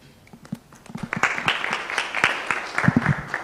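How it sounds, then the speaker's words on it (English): An audience at a youth unemployment innovators programme event claps, starting sparse and building into a steady round of applause, with faint talk underneath. "That's why you're clapping the way you're clapping."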